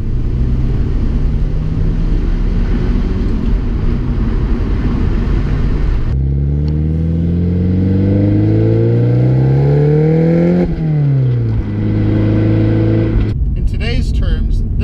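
A rare 1988 Porsche Turbo S pulling away from a stoplight, its engine note climbing through gears in rising sweeps with a shift break, loud and close, alongside wind and road noise.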